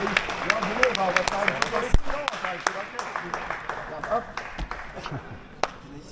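Crowd at a 10 km race in Paris applauding the winner, dense rapid clapping that gradually thins out, with a voice speaking over it and occasional louder claps.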